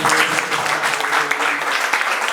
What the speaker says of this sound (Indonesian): berikan tepuk tangan yang terbaik bagi Tuhan